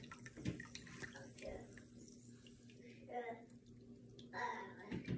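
Cherry bubly sparkling water pours into a glass, quiet bursts of liquid splashing and fizzing close by, spaced between soft talking and background sounds.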